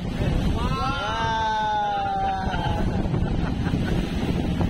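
Steady wind buffets the microphone over a low boat rumble, with a brief rising, warbling tone drifting through in the middle.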